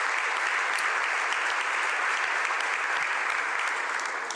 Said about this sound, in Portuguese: Será que a gente pode aplaudir o nome de Jesus?